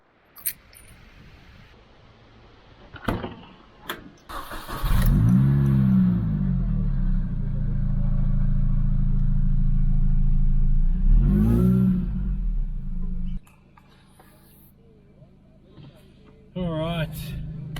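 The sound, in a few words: Mini Cooper S engine with upgraded supercharger pulley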